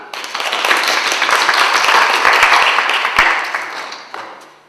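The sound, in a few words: church congregation applause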